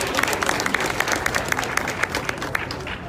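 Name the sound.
applause for Bobi Wine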